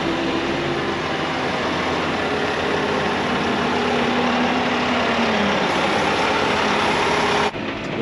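A John Deere 6155R tractor out for fertiliser spreading runs steadily nearby, its engine a constant broadband drone with no voices, cutting off abruptly at the end.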